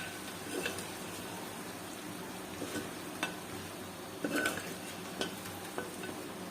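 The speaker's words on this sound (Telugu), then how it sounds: "బాగా మగ్గనిద్దాం మసాలాను." Masala for a village-style country chicken curry cooks in a pan with a faint, low sizzle and occasional soft stirring scrapes and clinks, quiet and steady.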